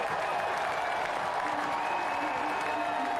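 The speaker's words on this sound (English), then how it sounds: "Delight from the crowd" Stadium crowd at a Portland Hearts of Pine soccer match cheering and applauding a goal, a dense, steady roar of clapping and shouts held at constant loudness throughout.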